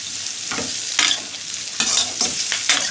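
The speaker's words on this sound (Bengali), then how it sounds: "আস্তে আস্তে একটু ভাজা হোক" Chopped ginger, garlic and green chillies frying in oil for a chicken curry, a loud, steady close sizzle broken by rhythmic scraping bursts as the mixture is stirred in the pan.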